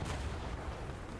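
Tank cannon fire in the War Thunder video game, heavy low booming blasts and rumble rolling on at low volume without speech.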